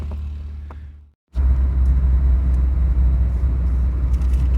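A car driving through snow gives a steady low rumble of engine and tyres, loud and close; the sound briefly drops out, then resumes as a continuous road roar.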